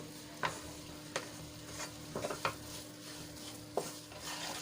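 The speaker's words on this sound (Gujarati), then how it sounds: "આ રીતે આપણે સતત એને હલાવતા જ રહેવાનું છે જ્યાં સુધી આપણો લોટ શેકાઈ જાય ત્યાં સુધી" Besan flour roasting in a pan is stirred constantly, with repeated sharp scrapes and taps of the spoon against the pan over a soft, continuous sizzle.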